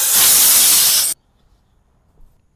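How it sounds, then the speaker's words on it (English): A loud, close burst of compressed air blowing dust out of a car trunk, about a second of broad hiss that cuts off sharply into near silence. "I'm gonna just blow it out and clean it off a little bit."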